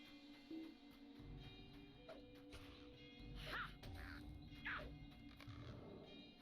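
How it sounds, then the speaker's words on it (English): A crow in the video game The Ballad of Bingo Boffin gives a couple of harsh caws a second apart over a quiet, steady game background. "There's another crow."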